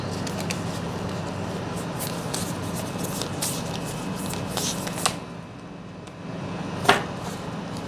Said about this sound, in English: Let me shuffle these cards just a tad bit more.